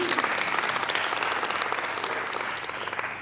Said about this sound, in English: I need an applause there,